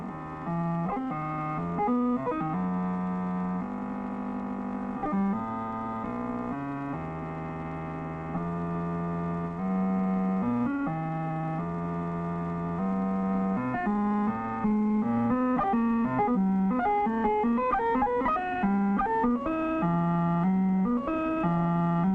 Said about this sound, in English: we will hear sounds which are an actual product of a huge calculator